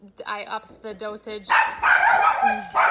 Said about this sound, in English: Sorry if you hear a dog barking in the background.